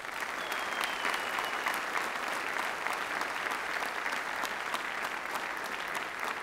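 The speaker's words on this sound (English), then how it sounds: "Give yourselves a round of applause." A men's fraternity audience at a St. Jude fundraising event applauds: dense, steady clapping from a large crowd that holds evenly throughout with no talking.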